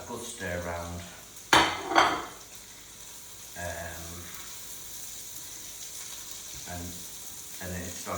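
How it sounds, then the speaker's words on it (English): Sausage meat, onions, garlic and herbs frying in oil as a utensil stirs them, with scraping and clinks of a pan at moderate volume and a steady sizzle throughout, plus a couple of sharper knocks early on. "And give that a good stir around."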